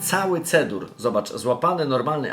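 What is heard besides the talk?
None of the usual background noises is heard.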